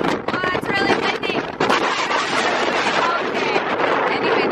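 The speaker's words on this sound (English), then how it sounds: "Well, it's really windy." Strong wind buffeting a microphone outdoors in Hawaii: loud, continuous rumbling gusts with a voice partly audible beneath the roar.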